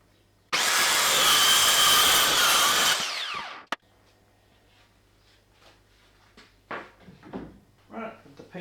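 A power saw cuts through a piece of plywood close by, a loud, dense whine lasting about three seconds before winding down, followed by a clunk and quieter handling sounds as a person speaks.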